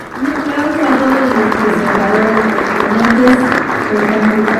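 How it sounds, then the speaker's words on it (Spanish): Audience applause for the presenters at a transportation infrastructure forum, steady crowd clapping under a continuous voice speaking over it. "Un aplauso a todos"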